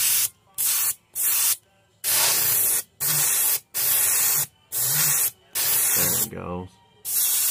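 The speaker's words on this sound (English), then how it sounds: "Let me get that green black to spraying through." Repeated short bursts of hissing spray from a paint spray gun applying green-black paint to a perch pattern, about seven pulses with brief pauses, close up; someone speaks briefly near the end.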